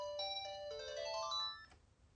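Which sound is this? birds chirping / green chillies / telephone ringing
telephone ringing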